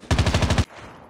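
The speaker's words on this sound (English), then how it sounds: "I cannot shoot with this gun. I'm not an Uzi person." Uzi firing in the video game COD Mobile, a quick automatic burst of about seven close, punchy shots in under a second, then a short fading tail.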